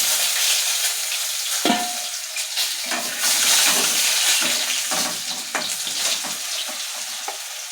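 Potatoes added to hot oil in a pan, a loud, close, dense sizzle with a few sharp crackles and spatula knocks throughout.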